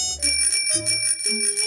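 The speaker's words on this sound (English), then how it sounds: "my scooter bell." A cartoon scooter bell rings in quick, bright dings, three or four clear metallic chimes in rapid succession, close and alone with no talk over it.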